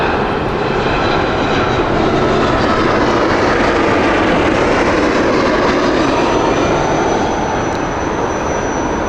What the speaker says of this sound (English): Lovely 787 in the sun.